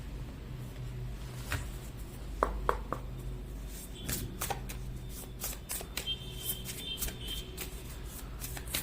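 Tarot cards handled during a reading: close, soft riffling and shuffling with quick slaps and flicks, several sharp card snaps near the middle and a steady papery rustle throughout, alone without any talk.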